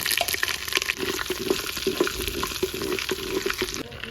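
Whole cardamom, cloves, cinnamon, cumin and peppercorns fry in a bamboo handi, giving a close, continuous sizzle dotted with small pops and crackles.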